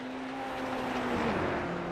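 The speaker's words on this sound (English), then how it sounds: "My first ever laps in the Radical SR10." The Radical SR10 race car in iRacing at Road America drones steadily at high revs, its engine tone holding and then dropping in pitch as it shifts, loud and continuous with no speech over it.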